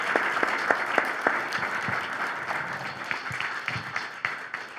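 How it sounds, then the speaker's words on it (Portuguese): Sustained audience applause at a Portuguese-language talk event about successful brands, a dense steady clapping texture with scattered sharper individual claps, fairly even throughout and with no talking over it. "Uma salva de palmas para ela."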